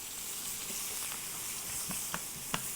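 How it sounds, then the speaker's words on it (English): Onions and mushrooms sautéing in a home kitchen pan, a steady close sizzle with a few sharp clicks and scrapes of stirring near the end, no talking. "I'm gonna go ahead and saute off my onions and mushrooms"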